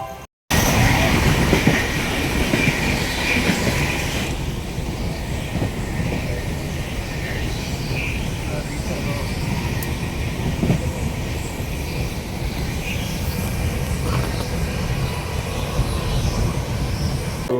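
A passenger train bound for Mantralaya, on the journey from Mysuru, rolls steadily along its rails, giving a loud, continuous rumble with faint rhythmic clatter that stays even from start to finish, with no talking.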